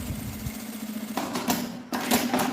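Sewing machine running close and steady while stitching a seam on a small fabric vanity case, with a brief pause and a restart.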